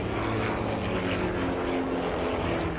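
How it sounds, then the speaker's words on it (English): Pitts Special aerobatic biplanes, tiny high-powered aircraft, drone steadily overhead at the 1993 Biggin Hill International Air Fair, a continuous buzzing propeller engine tone at moderate distance with no talk. "A couple of pit specials, doing some really hairy stuff. Tiny little aeroplane"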